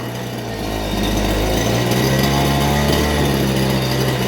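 A small Goped scooter engine runs on its own at a steady, loud idle while being tuned, its buzzing drone swelling slightly after the first second and holding even with no talk.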